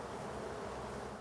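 Honey bees swarm around a beehive where queen bees are raised, giving a dense, continuous buzzing drone that fills the space at close range with no voices.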